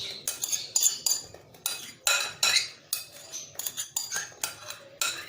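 Spiced chicken marinade mixture scooped from a bowl into a karahi for charsi chicken: a rapid series of loud metallic spoon scrapes and clinks against the vessel, repeated in quick, uneven strokes close by.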